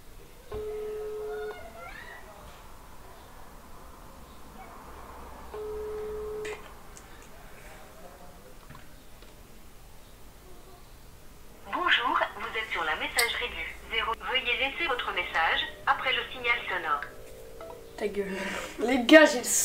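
Phone ringback tone on an outgoing call, two quiet repeating rings early on, followed by excited voices talking loudly.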